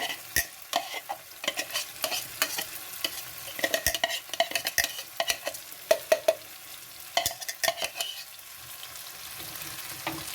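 Mutton brain (magaz) fries in a pan with chopped coriander and green chillies, a soft continuous sizzle broken by frequent sharp scraping and clacking of a spoon stirring, close and fairly loud, with no talking.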